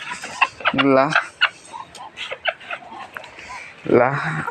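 A naked-neck hen clucks after laying an egg, giving a few loud, close, drawn-out calls between bursts of talking.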